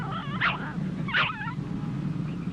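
Two dogs whimpering in the 1976 film Embryo, two distinct high whiny yelps spaced about a second apart, moderately close over a low background hum, no talking.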